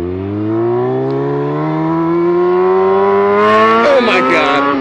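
Engine of a motorcycle ridden two-up, held near redline with a steady high-pitched droning whine that climbs slightly, loud and close, roughening near the end as wind and rattle rise.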